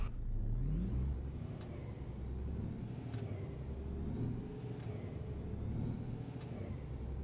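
A truck engine labors in the On The Road Truck Simulator game, a steady low droning rumble with faint periodic ticks that holds for several seconds with no talking.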